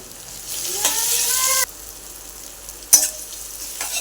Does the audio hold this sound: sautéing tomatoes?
yes